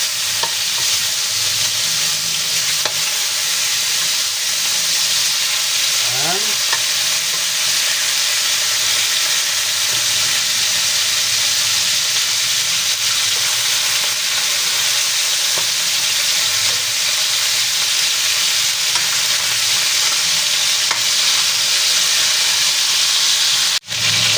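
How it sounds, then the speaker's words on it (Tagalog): Chicken pieces deep in hot oil that was used for frying vegetables give a continuous, loud and close sizzle with steady crackling hiss, unbroken for the whole stretch. "doon po sa pinagprituan ng gulay, yan na din po tayo magpiprito ng ating chicken"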